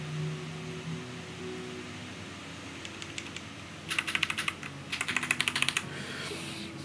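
Bursts of fast keystrokes on a KBD67 R3 mechanical keyboard fitted with lubed and filmed Durock T1 tactile switches, close and fairly soft, clustered in two quick runs after a quiet stretch with low background hum.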